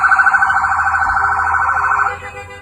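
Sirens from federal vehicles closing in on a maroon SUV during a street confrontation, a loud, steady wailing tone for about two seconds that then cuts off abruptly.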